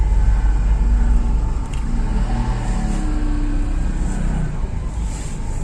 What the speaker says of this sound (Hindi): गाड़ी वाड़ी निकल रही है धोरे से